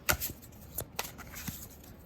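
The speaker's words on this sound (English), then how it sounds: "make sure we are good and shuffled here" A deck of cards shuffled by hand, quick crisp riffles and soft taps in short bursts, close and fairly quiet.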